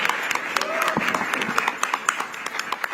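An awards ceremony audience breaks into applause for jury member Ramesh Sippy, a steady patter of many hands clapping with a few louder claps on top.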